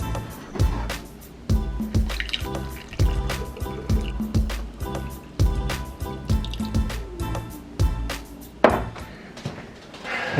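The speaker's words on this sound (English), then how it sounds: "We got them all filled with the kombucha that's been fermented." Fermented kombucha drips steadily as bottles are filled, with close, regular drops landing about every half second against a faint background trickle.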